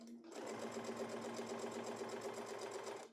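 A sewing machine runs forward stitches in one steady, continuous burst of fast, even mechanical chatter for about three seconds, close up and alone.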